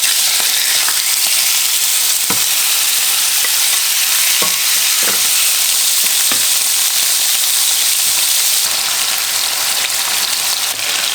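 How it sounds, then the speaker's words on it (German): Loud, continuous sizzling of meat searing golden brown in hot oil on the highest heat for plov, with occasional clicks and scrapes from stirring in the pan. "Das Fleisch kommt rein und ich werde erstmal das richtig goldbraun auf höchster Stufe"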